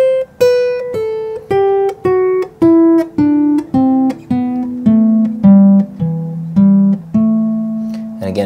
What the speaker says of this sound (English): the second scale that I'm playing is an A Dorian